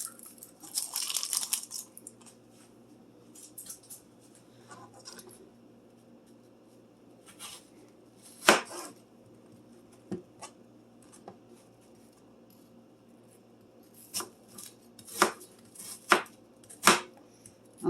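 A knife chops food on a cutting board in scattered bursts, soft, close taps at first, then louder, sharper strikes in quick clusters near the end, with quiet gaps between.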